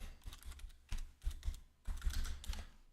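Fast typing on a computer keyboard in bursts of quick clicks with short pauses between them, close and clear, with no voices over it.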